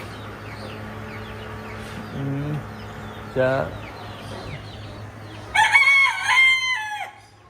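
Chickens and roosters of several breeds, including Japanese bantam, Aseel and Brahma, along with turkeys, call in a zoo enclosure: a few short clucks, then a loud, drawn-out rooster crow near the end over a steady low hum.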